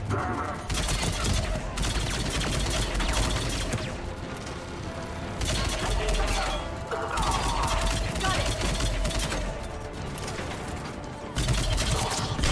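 Heavy gunfire in a Mass Effect 3 combat scene, dense rapid bursts broken by brief pauses, loud and continuous throughout, with game mechanisms and impacts blended in and no clear speech.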